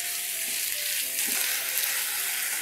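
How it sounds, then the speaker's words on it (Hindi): Vegetables for pizza stuffing cook over a medium flame with a steady, bright sizzle and soft stirring scrapes in the pan, close and continuous. "फ्लेम को थोड़ा सा मीडियम करेंगे और इसे मिक्स करेंगे। इन सब्जियों को हमने ज़्यादा सॉफ्ट नहीं करना है, बस हल्का सा इसे पकाना है।"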